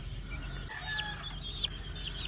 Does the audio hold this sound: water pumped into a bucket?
no